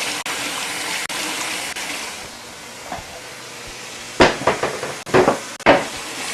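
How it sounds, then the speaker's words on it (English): Hands being washed under a running kitchen tap, a steady loud gush of water followed by splashy bursts as the hands move through the stream. "wash my hands"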